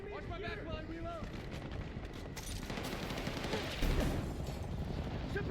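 Dense, sustained gunfire from a Battlefield 6 campaign mission, rapid automatic bursts layered with heavier impacts, building steadily and loud throughout, with voices shouting over the battle.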